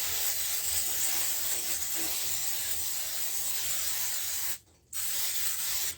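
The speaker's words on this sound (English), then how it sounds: "Let's spray this." A continuous loud hiss of an aerosol spray can, close up, with one brief pause near the end before spraying resumes.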